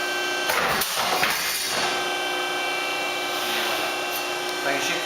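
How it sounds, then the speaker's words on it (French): Close saw cutting a slice off a metal workpiece, a loud continuous rasping grind with a few sharper strokes near the start, steady for several seconds. "J'ai coupé une tranche de métal ici"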